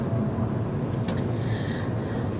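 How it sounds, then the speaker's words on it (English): Steady low rumble of road traffic heard from inside a car stuck in a jam, a constant engine and road hum with a brief high tick partway through, no talk. "I'm sitting here in traffic"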